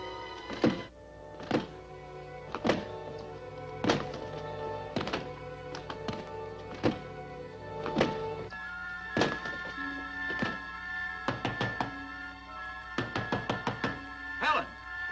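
Heavy, repeated thuds of a door being battered and broken down in a radio drama, landing as loud single blows and then quicker clusters over steady background music.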